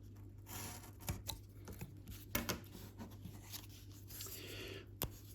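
Quiet scraping and snipping of a hobby knife or scissors through card or plastic while cutting miniature wargaming bases, with sparse sharp clicks over a low steady hum, close by.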